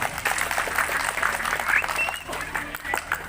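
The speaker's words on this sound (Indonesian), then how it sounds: "Tepuk tangan buat Pak Berbekal." An audience applauds steadily at a village gathering with speeches by local officials in Bongkasa Pertiwi, the continuous clapping heard under a speaker's voice and room hum.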